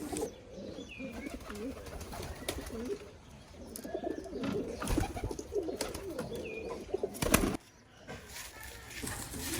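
White Bombai pigeons on a farm, a male squabbling with peacock-tail pigeons, give soft repeated cooing calls with occasional bursts of wing flapping. The sound is fairly quiet and close.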